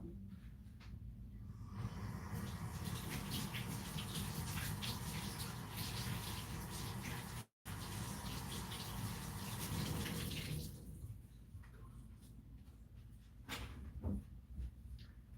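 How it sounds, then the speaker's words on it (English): Tap water runs steadily into a sink during hand washing at a home sink, a loud continuous rush with a short break midway, easing off near the end. "I need to wash my hands off."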